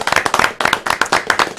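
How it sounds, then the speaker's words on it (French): A studio audience applauds sailors during a live broadcast of the Armada festival, a short burst of dense, close clapping with a few sharp accented claps and a light murmur of voices underneath. "je vous propose qu'on applaudisse tous ensemble nos marins"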